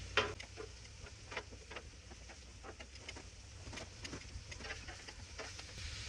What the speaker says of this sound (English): We got those ribeyes seared all the way around. Smoked sausage is cooking like it's supposed to.